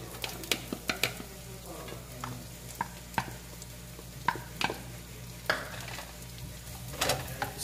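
Diced onion goes into a hot pan for a mushroom cream soup and fries with a low, steady hiss, punctuated by sharp utensil taps and scrapes at irregular intervals, close by and without speech.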